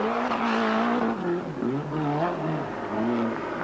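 Citroën ZX rally buggy driven by Schlesser in the 1993 Pharaohs Rally Raid, its engine note rising and falling with gear changes as it passes close and climbs a hill, loud and steady throughout.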